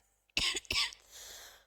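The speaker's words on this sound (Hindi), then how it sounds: "बोलने से ज्यादा तो मैं खांस रही हूं" A woman coughs twice in quick succession, close and sharp, followed by a short breathy tail in an otherwise quiet room.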